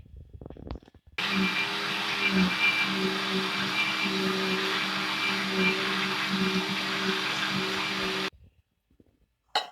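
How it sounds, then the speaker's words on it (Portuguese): A blender motor whirs loudly and steadily for about seven seconds while mixing peanut cake batter of eggs, sugar and milk, starting and stopping abruptly, with a few faint clicks before and after. "Então vamos lá para o liquidificador."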